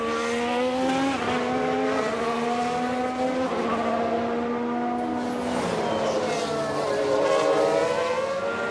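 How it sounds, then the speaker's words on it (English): In the F1 Manager 22 racing game, an Aston Martin F1 car loses control and spins; high engine notes rise and fall in wavering sweeps with tyre squeal, loud and continuous throughout. "They've lost control and spun!"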